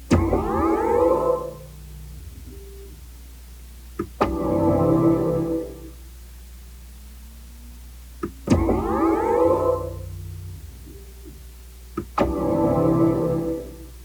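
Start-up chimes of a BMW i7 electric luxury car, composed by Hans Zimmer: soft swelling tonal phrases recurring in four short bursts with brief clicks between them, alone and fairly quiet over a low hum.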